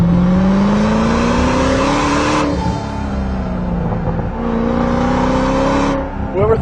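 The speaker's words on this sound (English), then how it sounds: "whoever thought to put a 4-inch exhaust on this thing, that was a good call, because it howls" A 2010 Ford Shelby GT500 with a 4-inch exhaust howls loud and close as it accelerates hard through the gears, the pitch climbing in two long pulls split by a quick shift.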